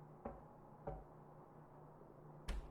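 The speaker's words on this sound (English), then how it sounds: "Someone's knocking at my door." Three sharp knocks on a door, two close together and a final louder one after a pause, sounding alone in a quiet room.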